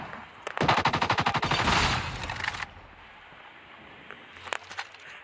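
Call of Duty gunfire rings out as a rapid automatic burst lasting about two seconds, then quiet game ambience with a couple of sharp single reports.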